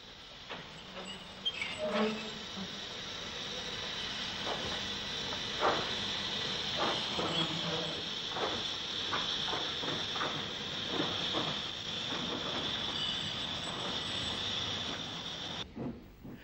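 An 1888 J19 class 0-6-0 steam locomotive working a branch line to a quarry in the west of Ireland, with a steady hiss and a run of rhythmic exhaust chuffs and clanks, heard at moderate distance without talk.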